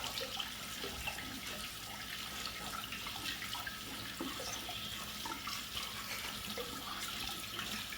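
Cold tap water runs steadily over yaupon holly leaves being rubbed by hand in a sink, a continuous close splashing stream with no talk.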